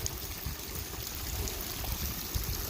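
Water running steadily down a muddy woodland trail on Derrybawn in County Wicklow, Ireland, after a small landslip, a continuous low gushing and trickling stream heard close by, alone and without talk.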